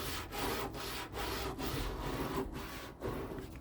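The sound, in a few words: wet scrub brush scrubbing stripper off wooden dresser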